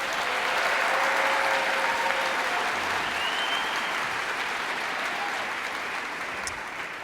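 Audience at a youth dance camp's final performance clapping steadily in a sustained round of applause, dense and even throughout with no talking.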